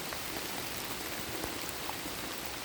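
Rain falls steadily outdoors in a rural woodland setting, a dense, even hiss of drops close by with a few louder individual patters, continuous throughout with no voices.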